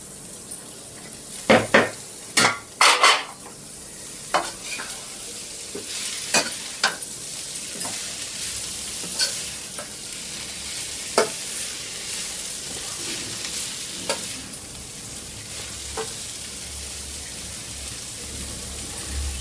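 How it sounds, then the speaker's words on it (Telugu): Cluster beans fry with coconut chili powder in a pan, a soft, steady sizzle broken by sharp scraping and clinking stirring strokes, most frequent early on. "కొబ్బరి కారం వేసి కొంచెం వేగనిచ్చాక గోరుచిక్కుళ్ళు వేసుకోవాలి."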